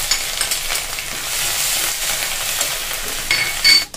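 Grated ginger, dried red chilli, bay leaf and cumin frying in oil for a prawn malai curry, a steady dense sizzle throughout, with a brief clatter near the end.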